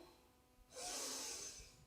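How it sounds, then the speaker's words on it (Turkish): One slow, deep inhale through the nose at the start of a bhastrika breathing exercise, close and soft, building into a breathy hiss that lasts about a second before fading. "Derin bir nefes alıyorum önce."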